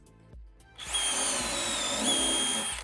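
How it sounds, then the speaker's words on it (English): A power drill boring holes in wood for a dock build whirs steadily at high speed, close and loud, after a brief start-up, with no talking. "Now that we've drilled our holes"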